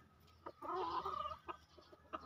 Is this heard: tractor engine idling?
no